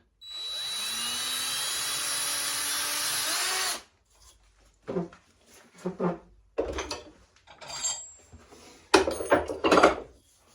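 A power drill bores a matching air hole through the other side of a wooden biscuit cutter, one loud steady whine for about four seconds that stops abruptly, followed by scattered knocks and handling sounds.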